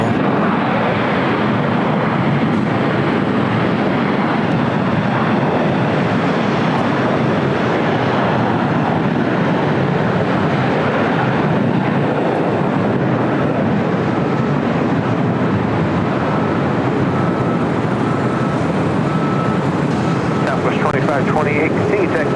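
An Air Premia 787-9 Dreamliner jet taxiing at LAX gives a steady, loud broadband roar and hiss throughout, with radio talk over it.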